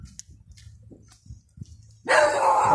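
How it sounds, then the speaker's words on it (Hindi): Dog barking in a residential street in Bochnia, Poland, a sudden loud burst of barks near the end, following quieter low rumbling and scattered faint sounds. "कुत्ता मुझे देख के भौंका है"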